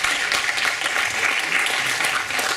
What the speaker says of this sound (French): Je vous demanderai de l'applaudir pour la remercier.